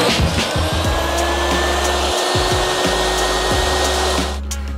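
A table saw cuts a tapered board held in a jig of scrap wood screwed down as clamps; a loud, steady motor whine runs through with the blade's cutting tone rising and falling as the board passes through.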